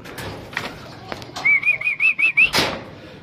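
A racing pigeon arrives at its loft with a quick burst of flapping wings, several close, rapid flutters over about a second, amid a faint whistle and scattered background knocks.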